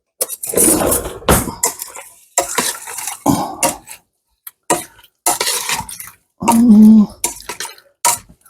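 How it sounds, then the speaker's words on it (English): A spoon stirs smoked Kalugeritsa hot sauce in a container, giving close, irregular clinks and scrapes against the sides in bursts, with one brief ringing clink near the end. "let me get a spoon and stir that up and see what we're looking like."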